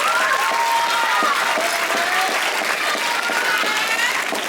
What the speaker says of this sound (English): So give your teachers a round of applause.